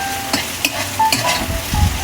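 Meat sizzles steadily in a hot pan while being fried for pancit, with a few short scraping knocks from stirring breaking through the frying hiss.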